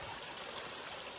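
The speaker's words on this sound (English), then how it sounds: "Passing all these really pretty little creeks," Small forest creek flowing on a mountain trail, a steady close trickling and rushing of water, alone and even throughout.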